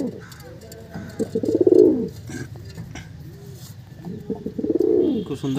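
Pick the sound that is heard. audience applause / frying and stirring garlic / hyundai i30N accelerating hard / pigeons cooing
pigeons cooing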